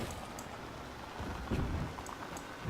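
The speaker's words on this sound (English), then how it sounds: "Big old storm." Steady rain hisses through a storm in the video game Astroneer, with a low rumble of thunder swelling midway, all fairly faint and constant.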